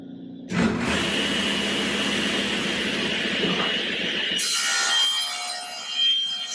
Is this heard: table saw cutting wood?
yes